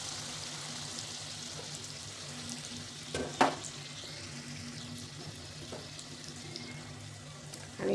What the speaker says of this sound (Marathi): पुरी तळताना भरपूर तेल टाकायचं कढईमध्ये, म्हणजे छान फुगते पुरी.